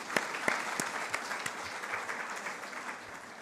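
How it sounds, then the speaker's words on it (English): An audience at a book launch event applauds with a brisk, steady wash of clapping, a few sharper individual claps standing out near the start, and no talk. "So, claps for him,"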